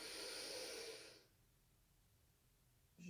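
A slow, steady breath drawn in during a yoga posture, a soft close hiss lasting about a second before fading into quiet room tone, with a brief rustle at the end.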